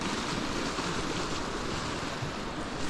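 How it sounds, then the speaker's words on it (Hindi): Small waterfall pouring beside a mountain lake, a steady broadband rush of falling water that holds even and close throughout with no pauses. "ये तो थोड़ा झरना सा है भाई"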